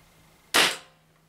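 A First Strike T15 launcher fires a home defense slug with a single sharp, loud pop and a short hissing decay, alone in a quiet room with a faint steady hum.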